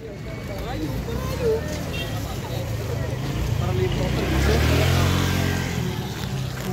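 Congested road traffic out of Naga City toward Pamplona in flood-hit Bicol: a steady, close rumble of idling and creeping engines that swells louder near the end.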